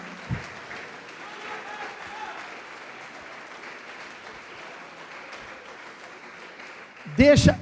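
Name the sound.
congregation applauding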